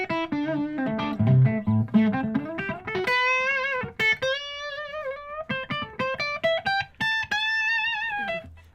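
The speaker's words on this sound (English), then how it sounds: "you add a beautiful, sweet, sexy reverb and some delay" Electric guitar played through a modeler with lush reverb and delay, first as strummed chords and then as single sustained melody notes with lingering trails, close and clear with no talking.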